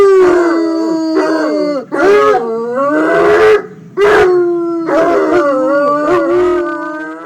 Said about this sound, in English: bloodhounds are well known for their loud baying sound